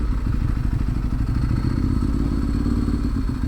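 Ducati 1098 motorcycle engine running close by, a loud, steady, rapid low-pitched throbbing idle with a rough, clattering edge.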